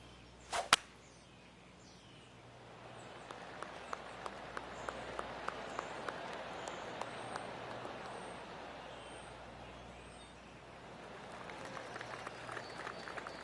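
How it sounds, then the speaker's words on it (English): Scattered golf claps ripple around the 18th hole in PGA Tour 2K25, a spread-out crowd applauding softly over low ambient noise, with a sharp hit near the start and faint bursts continuing throughout. "Oh, I can hear the golf claps around the course."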